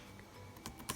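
Computer keyboard typing while entering regression variables for panel data analysis: a quick run of close, light key clicks, soft and fairly faint, with a slightly louder tap at the end and no talking.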